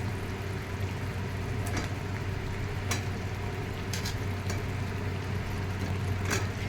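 Vegetables frying in hot oil for jackfruit biryani, a steady close sizzle with occasional sharp pops and crackles.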